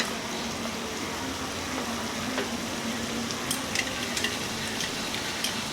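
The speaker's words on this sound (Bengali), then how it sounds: "এর মধ্যে দিয়ে দেব ফেটে রাখা টক দই।" Whisked sour yogurt hitting fried soybean chunks in a pan gives off a steady, close sizzle with scattered sharp crackles and pops toward the end; no talking.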